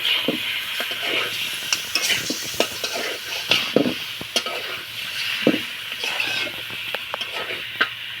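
Country chicken meat is stir-fried in a pot, a low sizzle under repeated clattering scrapes and knocks of a spoon against the metal, close and irregular.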